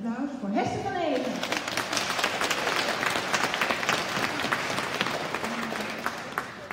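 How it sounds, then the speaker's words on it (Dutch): Audience applause for Hester van Eeghen at a leather design prize ceremony: a speaker's voice leads into sustained, fairly even clapping from a room full of people that keeps going at a steady level. "Dus als eerste heel graag even een applaus voor Hester van Even."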